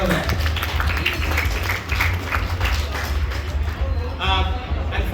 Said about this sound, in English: big round of applause to our bridal party as well there